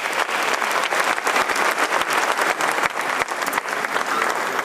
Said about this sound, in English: Shall we do a big round of applause and welcome them?